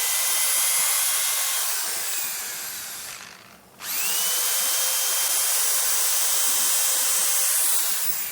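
Blasts of air blow dust out of the holes in a turned hickory wattle bowl, a loud steady hiss that stops briefly partway through and then resumes at full strength.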